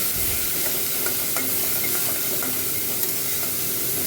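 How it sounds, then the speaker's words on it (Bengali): Bitter gourd pieces frying in oil with salt and turmeric, a steady close sizzle with stirring scrapes throughout, no voices. "নুন দেবো আর হলুদ দেবো, দিয়ে ভালো করে ভাজবো।"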